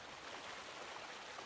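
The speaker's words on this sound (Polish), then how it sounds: "Kurczę, denerwuje ten dźwięk wody" Ambient water in Farming Simulator 19 plays as a quiet, continuous rushing wash with no breaks.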